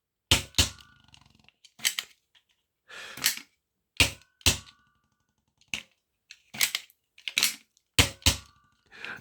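Nerf blaster shots fire one after another in loose, near rhythmic bursts, each a sharp close snap with a short tail and quiet gaps between, about a dozen in all.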